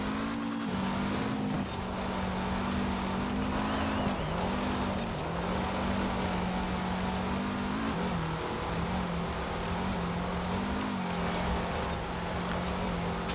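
A rear-engined hatchback-style car driven on a rally route in Forza Horizon 4 winter conditions, with a steady droning engine note that rises and dips slightly with throttle changes, continuous road and tyre noise throughout.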